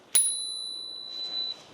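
A single bright bicycle bell strike rings out sharply, with a clear sustained metallic tone that lingers and fades over about a second in a quiet room.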